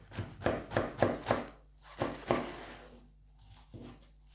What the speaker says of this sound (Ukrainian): І гарненько нарізаємо